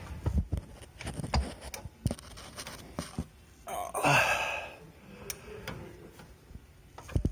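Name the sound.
BMW E84 X1 engine turned over by hand, ticking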